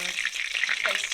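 Meatballs frying in a pan, a steady crackling sizzle that stays fairly quiet and even throughout, with no voice heard over it.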